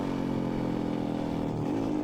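A white motorcycle climbing the Hai Van Pass mountain road in central Vietnam gives a steady mid-pitched engine drone that rises slightly near the end, with no voices.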